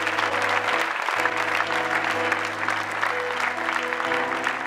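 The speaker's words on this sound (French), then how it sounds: "Si tu es béni, je veux que tu acclames le Seigneur" A church congregation applauds and cheers for the Lord, sustained dense clapping from a large crowd with an organ or keyboard chord holding underneath.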